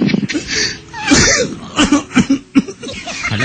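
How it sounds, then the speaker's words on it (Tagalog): A person coughing repeatedly, several harsh throaty bursts close to the mic in a rough rhythm, mixed with a bit of throat clearing. "Inuubo ka na eh."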